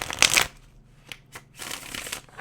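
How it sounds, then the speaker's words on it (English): A tarot card deck is shuffled in a brisk riffle, then several lighter flicks and taps of cards follow, closing with another softer shuffling burst; close and crisp, with no voices. "So Spirit, let me shuffle the deck."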